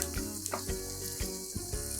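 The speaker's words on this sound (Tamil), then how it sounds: "இது கொஞ்சம் வதங்கணும்" Brinjal masala sautéing in hot oil, a bright sizzle punctuated by repeated quick stirring scrapes at a brisk rhythm, close and fairly quiet, with a faint tonal hum beneath.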